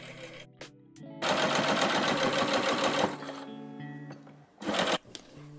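A sewing machine runs a straight stitch along a folded skirt hem, with a few short clicks before a steady, close whirring burst of about two seconds and another brief burst near the end.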